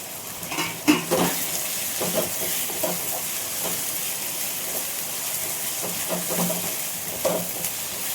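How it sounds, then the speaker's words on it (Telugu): Finely chopped tomato pieces fry with garlic paste in a pan, giving a close, steady sizzle broken by repeated scraping stirs and light clinks of a utensil against the metal. "సన్నగా కట్ చేసుకున్న టమాటా ముక్కలు వేసేసుకుంటున్నాం"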